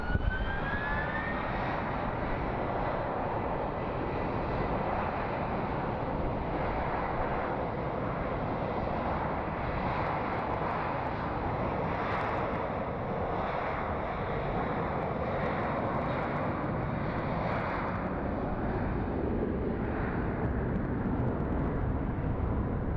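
An MD jet airliner comes in to land at Phoenix Sky Harbor, a steady broad jet roar that holds loud and constant throughout, with a faint rising whine early on.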